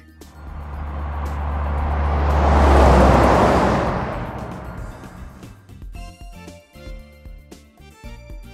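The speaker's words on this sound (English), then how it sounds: "Aquarium truck." A truck carrying an aquarium drives past, its engine roar swelling loudly to a peak and then fading away, followed by scattered lighter road and traffic noises.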